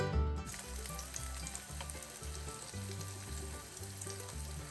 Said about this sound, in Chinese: 冒烟了，放鱼块。